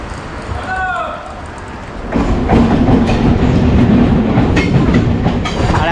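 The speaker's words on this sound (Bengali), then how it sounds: "ট্রেন কিন্তু ছেড়ে দিয়েছে শিয়ালদা স্টেশন থেকে।" A suburban commuter train runs after leaving Sealdah station, its steady rumble and rhythmic wheel clatter rising louder after a quieter start with a brief squeal, continuous and close throughout.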